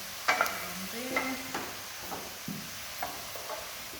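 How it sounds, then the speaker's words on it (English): Food sizzles in a frying pan amid scraping and clattering as it is stirred, with the hiss rising and falling in short bursts. "So we have stereo sizzle here."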